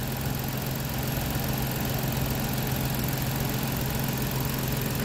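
A Ford Taurus engine runs at a steady idle with its oil pump working strongly, a continuous close, even drone with no talking.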